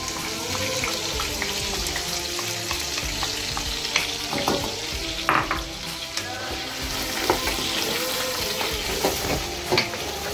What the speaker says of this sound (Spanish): Ahora empezamos a echarle el sofrito.